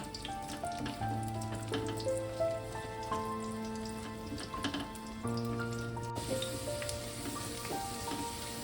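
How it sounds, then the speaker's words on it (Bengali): Sliced potatoes frying in oil in a pan for a mushroom curry, a steady close sizzle and crackle running throughout, with sustained musical tones playing over it. "ভালো করে মিনিট 2-3 নেড়ে আমি আলুটা ভেজে তুলে নেব।"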